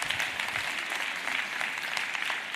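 A short burst of applause from a modest conference crowd at a closing address, steady clapping throughout at moderate volume with no speech over it.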